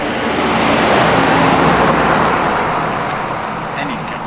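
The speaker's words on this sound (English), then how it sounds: "There's a big truck." A big truck rolls past on a nearby road, a broad steady roar of traffic that swells and then slowly fades over a few seconds.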